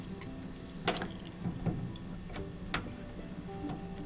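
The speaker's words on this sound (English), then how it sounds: "I can turn the whole pump assembly to my left" A Miele washer's drain pump assembly is twisted counterclockwise by hand. It gives a series of faint plastic clicks and ratcheting ticks at an uneven pace, close up, with no talk.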